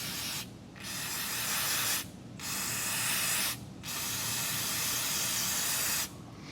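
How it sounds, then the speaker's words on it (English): Brake clean solvent sprayed onto a transmission part from a 2021 Dodge Ram Cummins 3500, four long hissing bursts of aerosol separated by short pauses, close and loud. "ether, starting fluid, or brake clean solvent to get that oil broke out of there"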